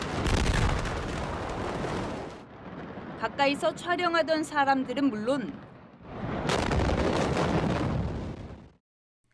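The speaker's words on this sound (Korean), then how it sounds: "불꽃과 폭죽 소리가 이어지더니 굉음과 함께 초대형 폭발이" Fireworks and firecrackers lead into a huge explosion amid dark smoke. Loud, roaring bursts of blast noise come before and after a stretch of news narration, and a voice speaks over the middle.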